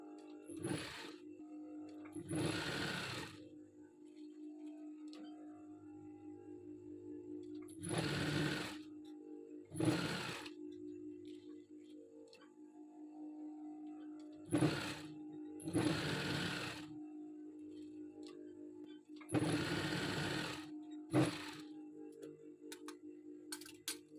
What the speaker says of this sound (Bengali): এখন আমি উল্টিয়ে উল্টো সাইডে বটনটাকে সেলাই করে আটকিয়ে দেব